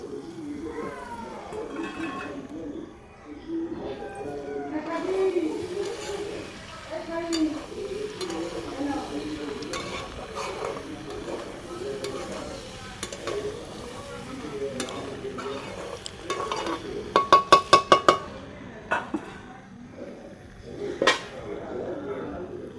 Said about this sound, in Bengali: এবার চিংড়ি মাছটা দিয়ে দেব, দিয়ে একটু ভেজে নেব সুন্দরভাবে